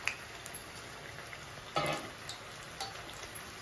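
Mirchi bajji, batter-coated chili peppers, frying in hot oil, with a soft, steady bubbling hiss and a few brief crackles and pops, quiet and continuous with no talking.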